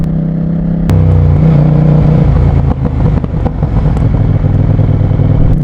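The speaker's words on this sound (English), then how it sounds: "The noise of this bike is wild and unique" A CFMOTO 800NK street motorcycle engine starts and revs loudly up close, its rumbling idle rising and falling with throttle blips and a rough, popping edge.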